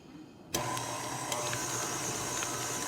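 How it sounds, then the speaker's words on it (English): A stand mixer switches on abruptly and runs steadily at medium speed, a constant motor whir with a few faint clicks, alone and fairly quiet. "So I'm going to turn the mixer"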